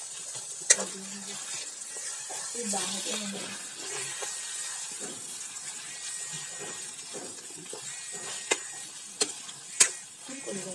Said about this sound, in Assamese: এতিয়া গোলা মছলাখিনি দি দিম। হৈ গ'ল, এতিয়া লৰাই দিয়া ধুনীয়াকৈ।